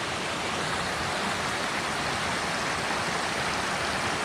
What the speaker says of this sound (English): Pretty amazing forest and river here, and this is only about a quarter mile from the parking lot.